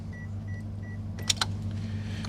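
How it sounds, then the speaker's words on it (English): A Daihatsu's ignition is switched on with a brief click and short chime-like beeps, followed by a quick whirring burst like a fuel pump or power window priming, all over a steady low idle hum. "Ignition on."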